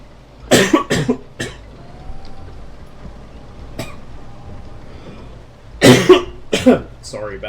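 A speaker coughs straight into a microphone during a gaming session, two loud bursts of harsh coughing at the start and two more near the end, separated by quiet background hum.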